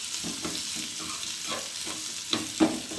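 Urad dal is tempered in hot oil in a pan, giving a constant loud sizzle broken by short stirring scrapes and spatters.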